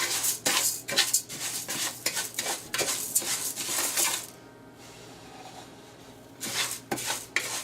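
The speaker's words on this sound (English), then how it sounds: "just kind of put this in dry, and you want to toast it" Dry arborio rice stirred and toasted in a pot for risotto, a gritty rattling scrape of grains against metal in quick strokes, pausing briefly before resuming.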